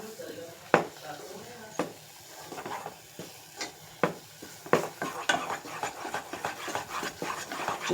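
A milk mixture being stirred in a pan while making palkova, with a spoon scraping and knocking against the pan in irregular strokes, soft sizzling underneath, and a voice talking now and then.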